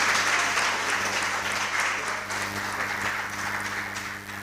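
Steady applause from the audience at a junior high school quiz contest, dense clapping over a low constant hum, gradually thinning toward the end.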